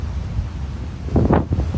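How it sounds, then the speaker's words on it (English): Gusty wind buffets an outdoor microphone near water, a rumbling roar that swells louder toward the end with no voices present. "It's very windy."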